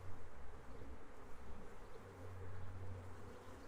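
Honey bees buzz around an open top bar hive, a faint, continuous low hum with a dense, wavering drone and no voices.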